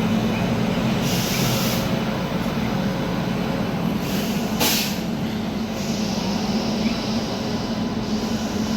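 The Bhagalpur Lokmanya Tilak Express rolls through Barahiya station with a steady rumble of wheels and carriages, broken by a few brief hissing bursts.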